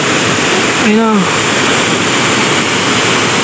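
Floodwater rushes loudly and steadily from a landslide slope above a house during Typhoon Jenny, a dense unbroken roar with a voice speaking briefly over it.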